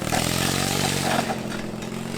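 A 450cc twin-cylinder engine fitted to a push lawn mower roars steadily and loudly up close, with a rough throbbing note and mechanical clatter that eases slightly near the end.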